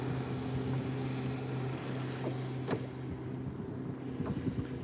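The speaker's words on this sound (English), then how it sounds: "There's boats coming in left, right and centre." Steady low engine drone of motorboats coming in past a fishing spot, with a continuous hum and water wash, a brief louder surge near the middle, no voices.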